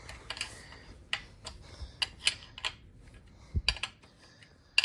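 A wrench working a tight bolt on an FSI engine during a teardown, a series of sharp metallic clicks and ratcheting ticks in uneven bursts, close and fairly crisp with quiet gaps between.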